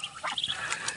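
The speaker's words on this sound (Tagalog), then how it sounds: "wild duck" Wild ducks call among farm ducks at feeding time, a quick burst of nasal quacks at moderate distance over outdoor background noise.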